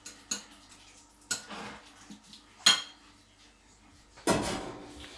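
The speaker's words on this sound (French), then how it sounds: "J'écrase avec la fourchette, c'est tout bête, c'est tout con." A fork clinks and scrapes against a dish while mashing cooked eggs for a white asparagus vinaigrette, with four separate close, sharp metallic knocks spread over a few seconds in an otherwise quiet kitchen.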